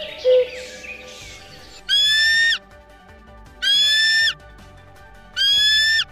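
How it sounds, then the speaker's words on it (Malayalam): A kite, a bird of prey, gives three clear, loud whistled calls, each about three-quarters of a second long, spaced evenly with quiet gaps at a bird sanctuary by Vembanad Lake. "പരുന്തിന്റെ ശബ്ദം"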